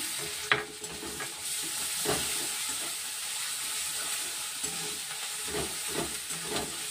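Ginger sizzling as it fries in oil for chicken masala, with steady hiss and several scraping stirs of a spoon across the pan, close and continuous.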